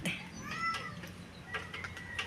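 A hungry cat meows for food in a rural home, several short, nearby mews spaced across a couple of seconds with light background noise.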